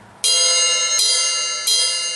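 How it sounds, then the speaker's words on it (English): A drumstick strikes the bell, or crown, of a ride cymbal three times, each hit a loud, bright, ringing ping that sustains and overlaps the next. "with the ride cymbal, you have different parts of it. Like up there, for example, which is called the crown of the bell"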